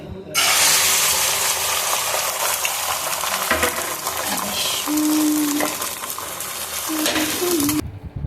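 Beaten egg mixed with onion and chili hits a hot pan with a loud, steady sizzle that fills the whole stretch, sputtering and hissing at close range, with faint scraping and clinks near the end.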